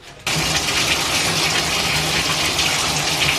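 Water runs loudly and steadily from a tap while hair dyed with blonde balayage highlights is rinsed at home, starting abruptly after a brief quiet moment and continuing as a close, constant gush.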